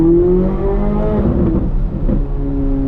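Corvette C8 Z06 engine revving, a deep harmonic engine note that rises and shifts pitch over a few seconds, heard close and loud with no talking.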